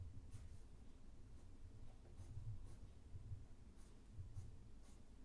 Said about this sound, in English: now I'm starting to use my nice pencil to create that darker light